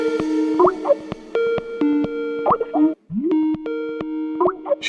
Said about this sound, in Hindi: वीडियो कॉल कर रही है।